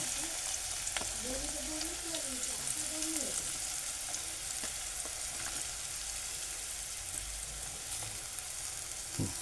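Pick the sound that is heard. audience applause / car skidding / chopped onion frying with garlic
chopped onion frying with garlic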